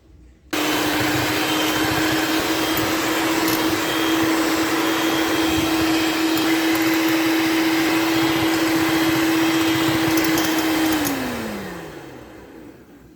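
Electric whisk beating eggs with sugar, a loud steady motor whine that starts abruptly and runs for about ten seconds before winding down and slowing at the end.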